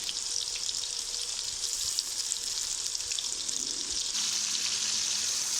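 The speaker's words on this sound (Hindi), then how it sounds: "बैंगन भी फ्राई हो चुके हैं" Eggplant (brinjal) slices frying in hot oil in a home kitchen, a steady bright hiss of sizzling that holds constant, with soft scraping and a slight shift in tone partway through.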